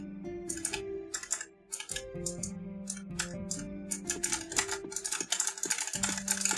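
Fast, steady typing on a computer keyboard, with loud, close key clicks arriving in quick bursts over a low background hum; no one speaks.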